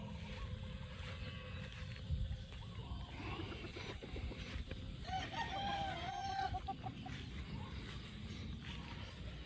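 Paul Spark Gray gamefowl cluck and crow faintly around a yard, with a rooster's crow rising midway over a steady background hum, and someone speaks quietly.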